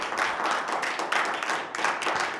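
Audience applauding a guest at a parish talent broadcast in Angoulême, a brief, moderately loud burst of many hands clapping in uneven, overlapping waves.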